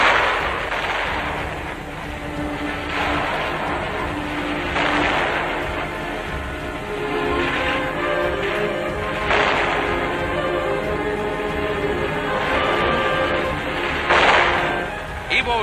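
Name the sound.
gunfire in the Battle of Iwo Jima, 1945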